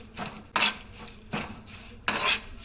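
Urad dal, chana dal and curry leaves stirred in a hot pan, with three bursts of spoon scraping and rattling against the metal at close range, and no voices.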